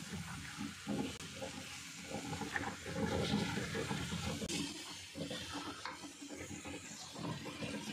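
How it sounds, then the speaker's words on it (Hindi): Water is poured into a pot of rice and vegetables being made into vegetable pulao, giving a soft continuous splash and sizzle that is faint and close. "अब मैं इसमें पानी ऐड कर रही हूँ।"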